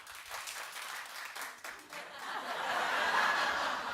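A studio audience on a daytime talk show claps, a fairly sparse, thin patter that swells louder toward the end, with some chuckling mixed in.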